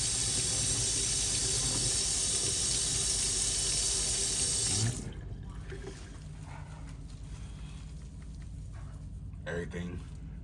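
Hot water from a kitchen tap pours loudly and steadily over steel and metal utensils for about five seconds, then shuts off, leaving faint clinks and rustling.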